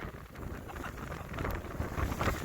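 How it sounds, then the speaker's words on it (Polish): Strong wind blowing at the Brona mountain pass in the Żywiec Beskids at sunset, a loud, continuous roar with gusts buffeting the microphone throughout. "Tylko strasznie wieje."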